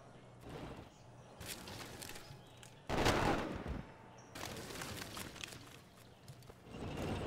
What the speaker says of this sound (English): the artillery's hitting my special forces